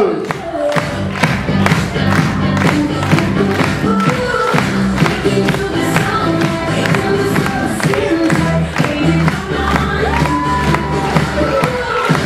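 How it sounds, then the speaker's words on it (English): School eisteddfod crowd at Gateway Academy clapping and cheering for a house team, loud and continuous with rhythmic hand claps, whoops and shouting voices throughout. "Everybody, let's give a big round of applause."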